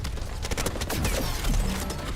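Turret in the video game The First Descendant firing a rapid, dense burst of gunfire that runs continuously and loudly with mechanical clatter and no speech.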